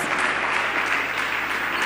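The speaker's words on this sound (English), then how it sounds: "Please give him a bigger round of applause" Steady crowd applause at a Ghanaian nation-building event, dense and continuous throughout, moderately loud with no clear voice over it.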